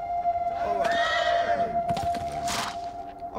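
A horse in the video game Beyond Two Souls gives a clear whinny and snorts nearby, with a steady tone humming behind it.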